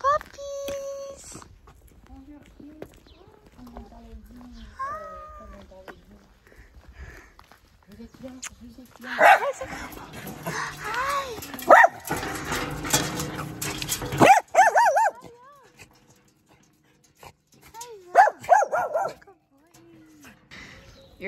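High-pitched yips and barks from young dogs come in scattered bursts, mixed with whimpers and excited talking nearby.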